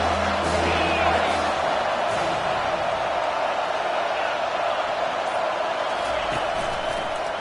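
A dense, steady roar of a stadium crowd in a college football video game, SMU versus Clemson, sustained at high level throughout with no distinct peaks or gaps.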